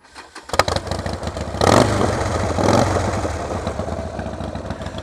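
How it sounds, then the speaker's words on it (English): A very loud motorcycle fires up with a clattering start, then revs hard in two strong bursts before settling into a rough, throbbing idle close to the microphone. "I'll start her up, and beware, this is the noisiest bike I've ever had"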